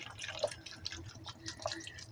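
Faint, quiet trickling and splashing of bottled water being poured into a bowl, with small irregular drips and gurgles close by.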